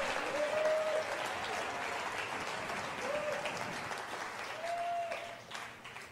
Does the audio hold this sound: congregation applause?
yes